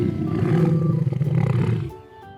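A lion's deep, rumbling roar swells for about two seconds with a rough, pulsing texture, then breaks off into quiet, heard alone and close.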